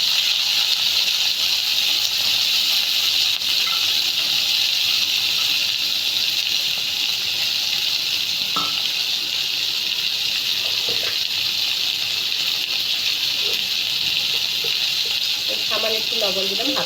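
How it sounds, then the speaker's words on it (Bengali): Beans, carrots and capsicum frying together in hot oil, a loud, steady, hissing sizzle held close throughout, with a few faint clinks near the end. "এবার আমি বিনস, গাজর আর ক্যাপসিকাম একসঙ্গে দিয়ে এটাকে ভেজে নেব"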